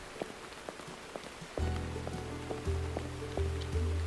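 Heavy rain falls steadily in the video game Burnhouse Lane. Faint patter comes first, then after about a second and a half a louder, fuller wash of rain sets in, with several low swells.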